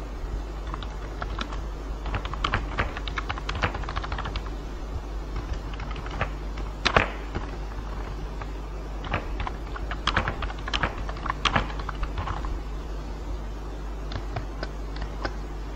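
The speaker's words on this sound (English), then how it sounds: "We can type some sentence inside." Typing on a computer keyboard while entering a sentence into a website, with steady close clicking keystrokes in quick irregular bursts across the whole stretch, a few sharper louder strikes standing out, and no talking.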